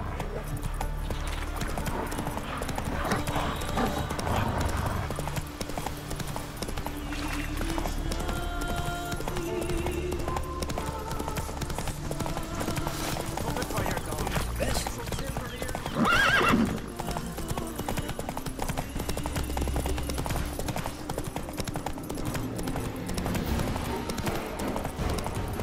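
A horse gallops in The Witcher 3 on PS5, its hooves clip-clopping in a steady rhythm for the whole stretch while the horse whinnies now and then. The game's ambient sound plays underneath and a brief voice is heard.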